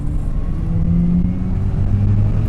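A 1993 Mazda RX-7 FD, light and around 200 horsepower, pulling hard under acceleration: a loud, steady engine drone with rising tones across the whole stretch, close and continuous with no talking.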